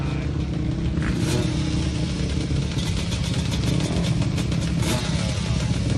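Drag racing motorcycles and a three-wheeler roar down a track at the Avenal Spring Nationals, a loud steady engine din with rising revving, heard from the trackside.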